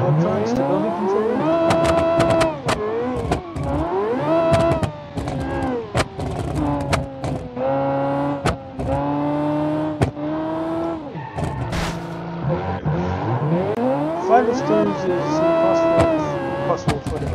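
The Rotar C3X in the BeamNG video game drifts with its engine revving up and down in repeated loud surges, tires squealing through long slides, and the engine note rising and falling over about seventeen seconds.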